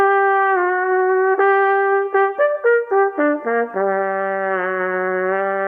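A brass instrument plays a Wurm practice etude phrase: a held tone, a quick series of tongued and slurred notes, then a long low sustained note, close and loud with no talking.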